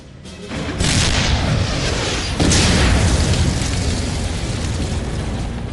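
A heavy boom bursts out, followed by a second deep blast with a long rumbling tail, like a tank cannon firing close by.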